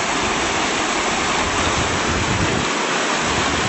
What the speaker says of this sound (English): See, the creek is running in 2 streams here